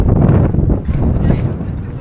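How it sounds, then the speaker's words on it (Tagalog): Strong wind at Llandudno, Wales buffets the microphone in a loud, continuous low roar, with gusts rising and falling and a voice partly heard under it. "Lakas din ng hangin."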